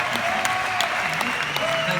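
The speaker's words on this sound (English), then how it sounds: "Give them a round of applause." Audience applause after a company presentation, a steady dense wash of clapping from a crowd that carries on for the whole stretch, with a voice faintly present underneath.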